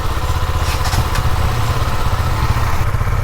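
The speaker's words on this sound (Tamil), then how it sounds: "இந்த மாதிரி ஸ்டார்ட் பண்ணிவிட்டு ஒரு 2-3 நிமிஷம் ஐடியலில் விடுங்க." A KTM Duke motorcycle engine idles right after a cold start, a loud, close, steady low chugging with a little mechanical clatter.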